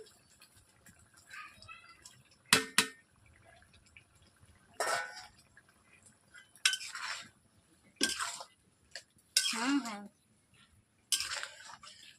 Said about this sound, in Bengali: আমার ঝোলটি যেহেতু ফুটছে, তাতে আমি ওই চিংড়িগুলো দিয়ে দিচ্ছি